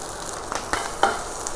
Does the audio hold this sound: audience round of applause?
no